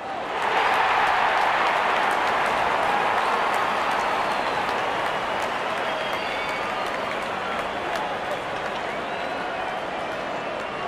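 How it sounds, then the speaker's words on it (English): A cricket crowd at a South Africa versus Afghanistan semi-final cheers and applauds as the openers walk out, a dense, sustained roar that holds steady throughout. "Openers walking in and the crowd cheering in anticipation."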